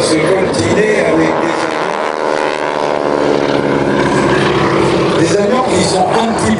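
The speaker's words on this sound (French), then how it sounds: "On a là donc un hélicoptère biplace lourdement armé" A heavily armed two-seat helicopter flies at the 2012 Rennes airshow, its steady loud rotor and engine roar filling the air close by without letup, with an announcer talking faintly underneath.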